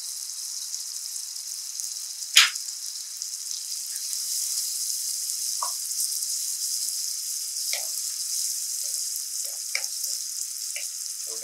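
Spices cooking in oil for a spicy lemon pepper green chilli dish give a steady, bright hiss of sizzling, with scattered soft pops and one sharp crackle early on, close and alone.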